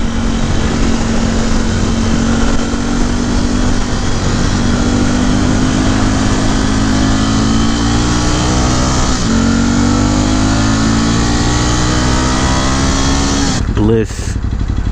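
A 2018 Ducati Scrambler 1100 Special motorcycle engine drones loudly and steadily throughout a ride, its pitch rising and dipping slightly, mixed with constant wind rush and a brief shift near the end.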